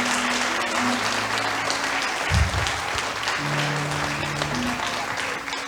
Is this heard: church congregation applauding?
yes